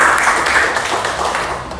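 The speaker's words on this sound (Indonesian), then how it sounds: "Tepuk tangan untuk kelompoknya Gilbert dulu" A class applauds Gilbert's group after their presentation, a brief, dense patter of many hands clapping together that tapers off slightly toward the end.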